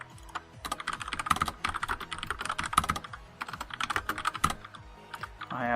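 Rapid, steady typing on a computer keyboard during a live game stream, with dense close clicks and brief bursts of fast keystrokes.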